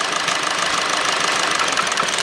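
A Kia/Hyundai engine with a bad ignition coil, one coil unplugged, runs roughly up close, with an uneven, stumbling idle and irregular knocking pulses beneath a constant mechanical hum.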